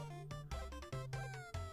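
A cat in a tavern meows when it is petted in an autobattler roguelike video game, three or four short, close, clear meows in quick succession with no talking.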